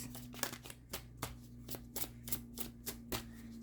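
Tarot cards being shuffled and drawn make a quiet run of crisp, regular riffling snaps, about two or three a second, close by with a faint hum underneath.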